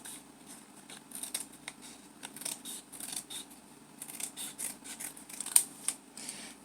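Scissors snip through the edges of a recycled cardboard box in a quick series of crisp, close cuts, with short pauses between strokes and no talking.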